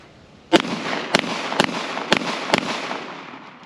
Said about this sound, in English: How about the good old Springfield Prodigy in 9mm? We're gonna load this thing up, just punch it a few times